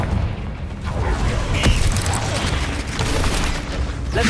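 Confringo explosive spell in Hogwarts Legacy lands with a sharp, close blast partway through, set against a steady bed of rumbling combat noise and scattered smaller impacts.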